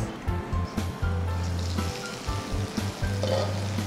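Okra (bhindi) frying in hot oil in a covered pan on a slow flame, a steady close sizzle and hiss with a low hum running underneath.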